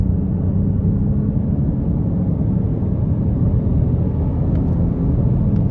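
A 2024 Nissan Rogue S with a 1.5-litre turbocharged three-cylinder accelerates hard, giving a steady, heavy low engine rumble from inside the cabin with no talking.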